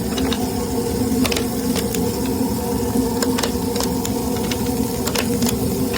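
Cheeseburger patties cooking on a hot surface with a pat of butter, giving a steady close hiss and sizzle with faint crackles and a low hum underneath, no talk.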